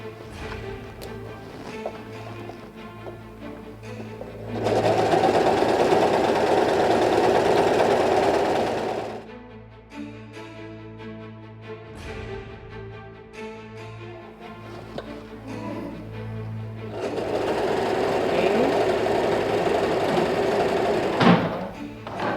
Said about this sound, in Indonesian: aku udah biasa pakai mesin obras